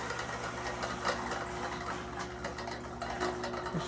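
Well pump running just after its pressure switch was replaced, with the drained system not yet holding pressure: a steady, continuous mechanical hum with a faint rhythmic ticking chatter, moderately close, no talking.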